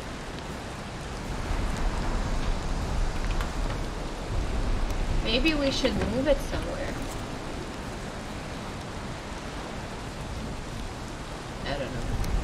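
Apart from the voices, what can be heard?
rain falling in the video game Valheim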